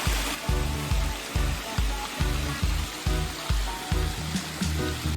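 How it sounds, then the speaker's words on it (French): Rushing water at the top of the Cascade de la Brise in the Alps, a steady broadband roar heard up close, overlaid by rhythmic low thumps, with no talking. "Voici le haut de la cascade de la Brise."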